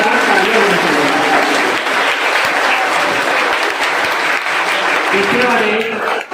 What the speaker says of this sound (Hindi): उनके लिए दोबारा जोरदार तालियां होनी चाहिए